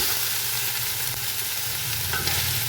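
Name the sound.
chicken frying and being stirred in curry paste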